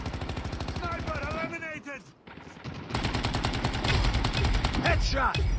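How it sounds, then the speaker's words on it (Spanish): Gunfire in Call of Duty Mobile, shot through a wall during a team deathmatch: dense bursts of rapid shots in stretches across the clip, loud and close, with someone talking over parts of it. "Vale, lo hemos disparado ahí a través de pared"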